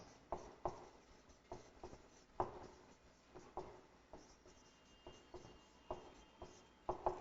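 Chalk or marker strokes on a board during a Class 9 maths lesson on surface areas and volumes, a run of quick scratchy taps and rubs in an uneven rhythm, close and fairly quiet, no speech.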